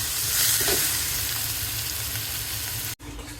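Data greens fry in plenty of oil, giving a steady close sizzle with faint stirring, before an abrupt cut near the end and a quieter continuation of the frying.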